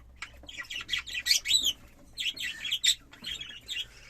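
Jumbo budgerigar chicks chirp and squawk in busy, overlapping bursts of high, scratchy calls, with a short lull in the middle before the chatter resumes.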